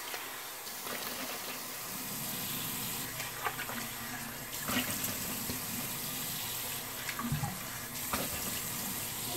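Cold tap water runs steadily into a sink, a continuous splashing hiss with small clatters and knocks as a shavette razor and face are rinsed under the flow.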